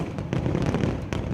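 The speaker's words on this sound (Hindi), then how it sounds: "एक के बाद एक इतने पटाखे छोड़े गए कि पूरा आसमान जगमगा उठा।" Celebration fireworks and firecrackers go off one after another, lighting up the sky: a dense, loud run of sharp cracks and pops with a rumbling boom underneath.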